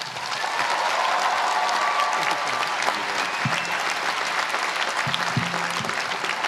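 An audience fills a university hall with steady, loud applause as Denzel Washington is welcomed, sustained clapping from many hands with faint crowd murmur throughout.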